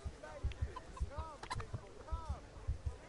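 Several short, bright clucks from a chicken in the video game Kingdom Come: Deliverance, scattered over a steady pattern of soft low thumps, with a faint voice in the background.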